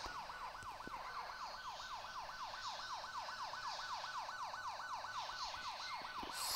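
Police car siren in a video game chase, a steady wailing tone rising and falling in fast regular cycles, loud and continuous over faint engine and road noise, with no talking.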